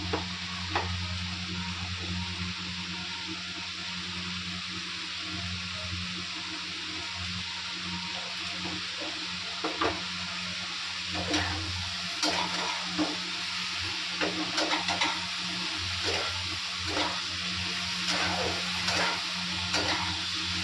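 Spices stirred through a frying mix in a pan as turmeric goes in, with steady sizzling and clinking stirring strokes over a low hum from a nearby gas burner, no talking.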